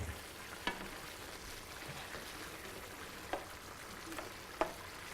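Chicken sausage with paprika sizzling in a pot and being stirred, a steady soft frying hiss with a few light scrapes, fairly faint and close, with no talking.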